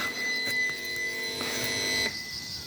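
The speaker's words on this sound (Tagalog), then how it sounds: "Naingay yung alarm clock." An alarm clock rings on an apple farm in Paju, Korea, giving a steady electronic tonal beeping that holds for about two seconds, then cuts off into quiet outdoor background.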